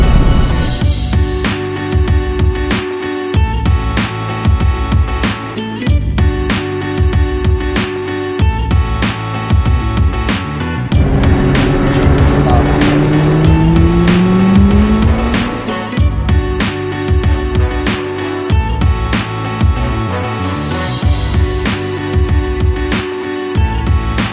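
A McLaren 570GT drives up a volcano mountain pass on a volcanic island, its engine loud and close, revving and shifting in repeated rising pulls, with a long sweeping climb in pitch midway.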